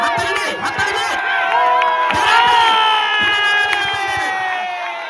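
A large crowd of spectators cheers and shouts at a boat race, many voices blending into a loud, sustained roar with whoops rising over it.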